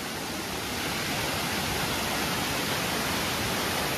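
Loud, unbroken roar of a high-pressure waterfall in dense forest, a dense steady wash of falling water close by with no voices.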